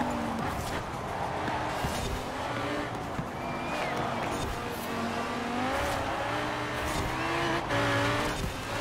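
A Ferrari 458 Super Speciale races in the video game Forza Horizon 4, its engine revving and shifting through gears in a continuous loud drone, with tires squealing at moments while someone talks over it.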